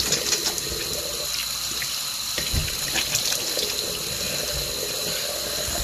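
Tap water running steadily into a sink while a face is rinsed, a continuous close splashing stream with faint shifts as hands move through it, no speech.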